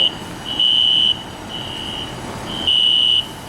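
A building fire alarm sounds in loud, steady high-pitched buzzing bursts that switch on and off, over a constant background hum.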